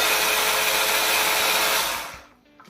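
Food processor grinding hazelnuts into fine crumbs for homemade almond-style cookies, a loud steady high whirring roar close up that runs continuously, then cuts off and fades near the end.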